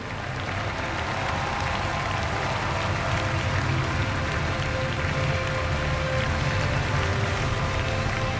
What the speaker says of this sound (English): Let's show our appreciation to them